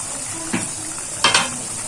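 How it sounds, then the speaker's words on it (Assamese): Chicken gravy for an Afghani-style dish frying in a pan while being stirred, a steady sizzle broken by two or three quick spoon scrapes against the pan, close up and without speech. "এইখিনি মই ভালকে ভাজি লম।"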